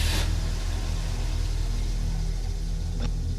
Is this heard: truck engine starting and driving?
yes